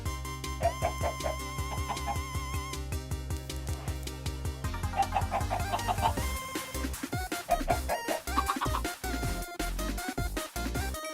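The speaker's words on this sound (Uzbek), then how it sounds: "Tovuq ferma ishga tushdi." Chickens cluck and crow on a farm in a survival video game, over bouncy, repetitive game music with sharp plucked notes, continuing throughout at moderate volume.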